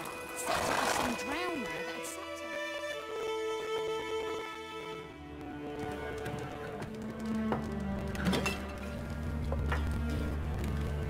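Horse Roach neighing and whinnying in The Witcher 3 near White Orchard, with hoof clip-clops and game ambience underneath while someone talks over it.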